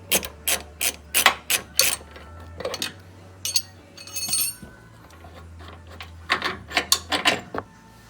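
A ratchet clicks in quick bursts of sharp metallic ticks, turning a 21 mm nut on a ball joint bolt of a 2009–2014 Ford F150, with short pauses and faint clanks between bursts.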